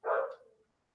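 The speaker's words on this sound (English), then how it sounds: "Don't worry about the dogs." A dog gives a single loud, close bark that fades quickly, heard on its own with no talk.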